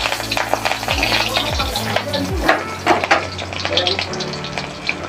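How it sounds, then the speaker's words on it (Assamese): Panch phoron and two chillies crackle and sizzle in hot oil in a pan for an Assamese thekera tenga curry, a dense, steady frying hiss with a few sharp pops and light utensil clinks close by. "এতিয়া মই ৰৈ যোৱা তেলখিনিত পাঁচফোৰণ দিলোঁ"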